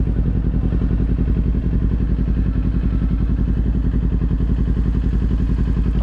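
A Kawasaki Z400 motorcycle engine idles steadily with a low, even, pulsing throb and slight mechanical clatter, held close and constant throughout with no talking.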